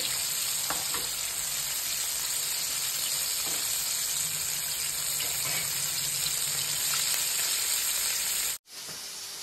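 KFC-style chicken pieces deep fry in oil with a dense, loud, steady sizzle and crackle that cuts off abruptly near the end before resuming faintly.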